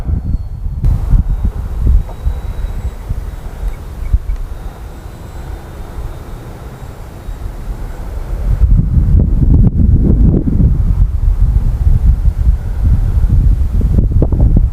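Wind buffets an outdoor microphone during the maiden flight of a model Hawker Tempest, a loud low rumble that eases for a while and then surges stronger in the second half, no voices.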